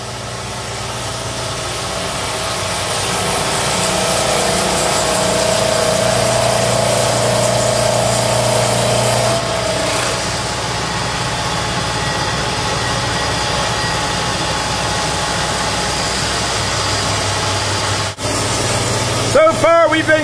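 A saw-and-waterjet machine cuts a granite countertop, a loud, continuous grinding roar with a steady engine-like hum that runs unbroken, ending with a few brief knocks.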